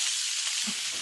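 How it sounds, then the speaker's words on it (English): Corn sears in a hot pan, a dense bright sizzle that holds steady and loud for about a second with a soft stirring thump near the end. "Can you hear that sizzle?"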